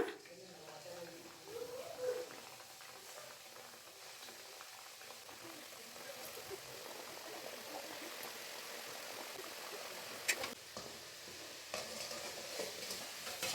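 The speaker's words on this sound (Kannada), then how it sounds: "ಎಣ್ಣೆ ಈಗ ಕಾದಿದೆ ಒಂದೊಂದೇ ಹಾಕ್ಕೊಬಿಡೋಣ" Sweet chakra rounds of maida dough frying in hot oil, a faint, steady bubbling sizzle with a few sharp clinks, quiet and close throughout.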